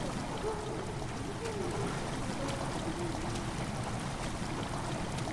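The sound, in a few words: water slowly flowing into a chamber in the video game Amnesia The Dark Descent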